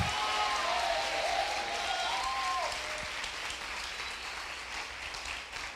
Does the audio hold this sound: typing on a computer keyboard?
no